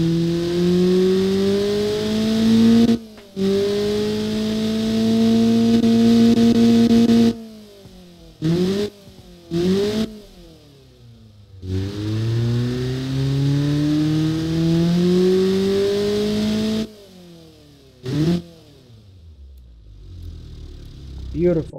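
A Honda D16V1 engine fitted with new pistons, connecting rods and camshaft revs loudly and close up in repeated long pulls, the pitch sweeping up and down between abrupt cut-offs and short quiet gaps.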